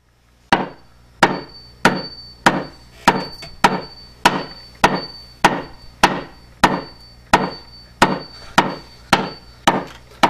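Sharp hammer blows strike wood one after another at a steady, even pace, about fifteen loud knocks with short ringing decays.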